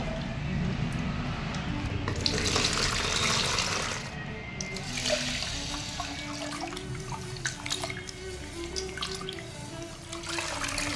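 Tap water runs steadily into a pot of polished rice being washed by hand, with splashing and sloshing throughout and a brief dip in the flow midway.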